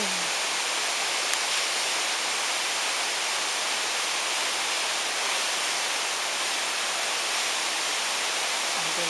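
Buntot Palos Hidden Falls in Pangil, Laguna roars as a steady, dense wash of falling water, loud and unbroken throughout with no voices.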